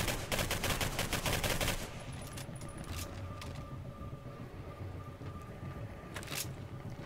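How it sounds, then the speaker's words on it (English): Rapid bursts of gunfire in the video game Singularity, a gun tap-fired in quick repeated shots for about two seconds, then a quieter stretch with a few isolated shots later. "Gun has no recoil if you just keep tap firing it."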